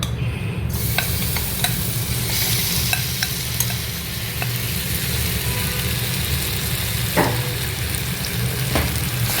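Marinated chicken sizzling steadily in hot rice bran oil, a dense continuous frying hiss with occasional scrapes and knocks of a utensil stirring the pan.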